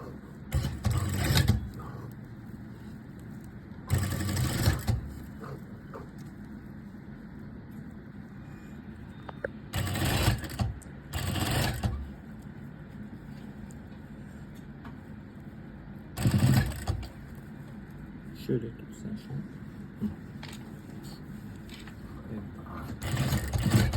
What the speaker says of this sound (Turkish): Sonra astarın üstünden üst dikiş çekiyorum.